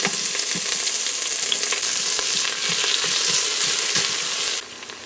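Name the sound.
onions frying in hot oil in an Instant Pot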